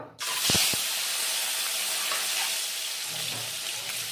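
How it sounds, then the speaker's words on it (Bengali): Cut boiled eggs with a pinch of turmeric hitting hot oil, a sudden loud hiss that settles into a steady, close spitting sizzle with a couple of soft knocks. "ডিমগুলো হালকা ভেজে নেব"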